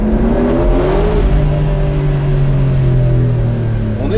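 A Porsche Carrera engine revs loudly through its exhaust, the pitch sweeping and holding in a steady, close, continuous roar with no voices over it.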